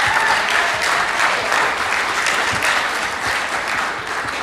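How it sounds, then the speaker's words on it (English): A crowd at a Pasifika Fusion 2023 stage show applauds steadily and fairly loudly for Mum and Dad, a continuous wash of many hands clapping. "put a round of applause, put your hands together for Mum and Dad"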